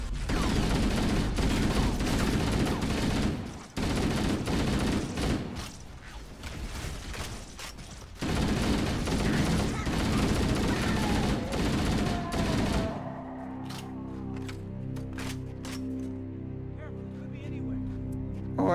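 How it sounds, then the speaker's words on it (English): Gunfire in Halo: Combat Evolved, dense rapid bursts of shots sounding for long stretches with short pauses, then dropping to sparse clicks and mechanical game sounds, while a person talks over it. "Oh, who's shooting at them?"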